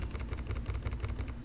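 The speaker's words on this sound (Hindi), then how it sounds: "कीबोर्ड की shortcut control shift greater than and less than" Keyboard shortcut being typed on a computer keyboard, a quick run of close, light key clicks over a steady low hum, no voices.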